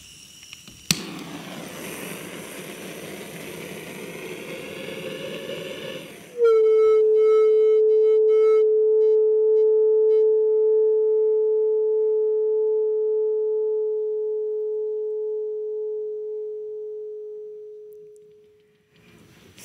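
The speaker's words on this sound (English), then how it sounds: "when I stop heating, you will hear the thermoacoustic instability" A heated wire grid gives off a loud, steady pure tone from thermoacoustic instability. A rushing heating noise comes first, then the clean hum sounds alone and slowly fades over about thirteen seconds before cutting off.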